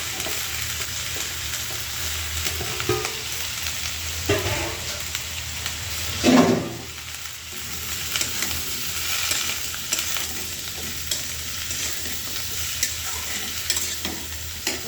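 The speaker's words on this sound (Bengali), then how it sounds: "তো এটা আমি ভালো করে একটু ভাইজা নিই।" Potato, beans, eggplant and onion frying in a pan, a continuous close sizzle with occasional stirring scrapes and one louder clatter midway, no talking.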